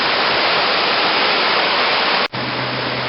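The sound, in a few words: rushing floodwater of flooded Ridley Creek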